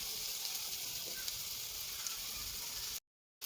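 Radish pieces fry lightly in oil in a kadai, giving a soft, steady sizzling hiss up close for about three seconds before cutting to silence, with no talking.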